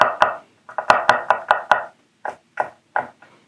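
A Shiro Kamo knife chops a carrot steadily on a board, quick crisp thuds in a brisk rhythm, pausing briefly, then a few slower final cuts.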